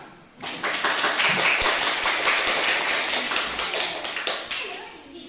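A classroom group applauds, a burst of many hands clapping together that starts abruptly, stays dense and loud, then thins out toward the end.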